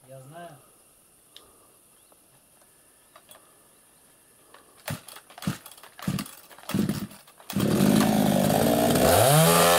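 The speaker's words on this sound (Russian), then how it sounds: "Только снизу пили, сверху не смей. Я пилу знаю." A chainsaw starts up and cuts into a tree being cleared from a hayfield near storage buildings, stuttering in short loud revs before settling into a steady, close roar; quiet talk comes before it.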